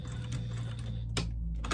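A domestic sewing machine stitches a small reinforcing triangle at the corner of a fabric slip pocket inside a clutch bag, giving a steady whirring motor hum with short rhythmic needle clatters and a brief pause midway, close and alone.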